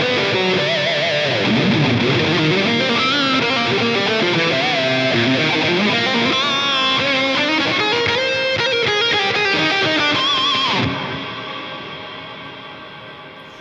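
Distorted guitar runs through a Line 6 POD GO's Searchlights reverb, the notes smearing into a shimmering wash; after the playing stops near the end, long ambient trails keep ringing and slowly fade.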